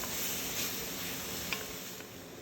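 Shallots, bacon and carrots frying in a pot for an Irish pie with Guinness, giving a steady, dense sizzle with a few faint scraping stirs, close by and alone without voices.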